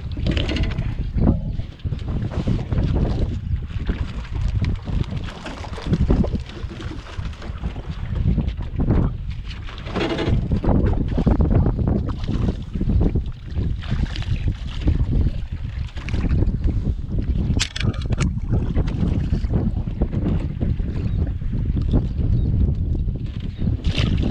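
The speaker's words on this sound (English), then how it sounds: "even though it's windy" Wind buffets an anchored fishing boat on open water, a steady loud rush with gusts and rumbling microphone wind noise throughout, no voices heard.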